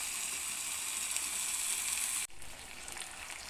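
Tomato sizzling in hot oil in a pan of chicken curry, a bright, steady close hiss that drops abruptly partway through and continues more softly.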